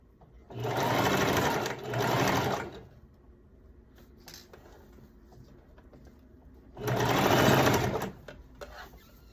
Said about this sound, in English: take your pins out as you sew